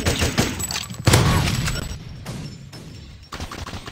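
Rapid gunfire from the video game Pixel Fury, a dense burst of shots with a heavy thump near the one-second mark, continuing in quick loud volleys throughout without clear talk.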